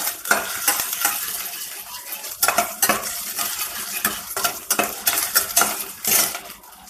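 Crushed ginger frying in a pan, with a steady sizzle broken by repeated scraping and clinking of a spoon stirring against the metal, close and fairly loud, no voices.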